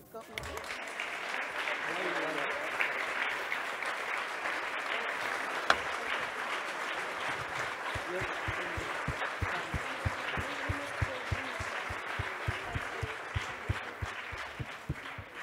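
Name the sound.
audience applauding Edgar Morin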